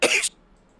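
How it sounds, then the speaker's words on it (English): A single short, sharp cough, lingering from COVID, sits close to the microphone and is followed by near silence. "I'm still carrying that COVID cough just a little bit."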